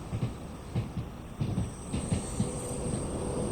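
An Avanti Class 390 train runs out of Manchester Piccadilly in Train Sim World, with a steady rolling rumble and rhythmic clickety-clack of wheels over rail joints, heard alone at moderate level.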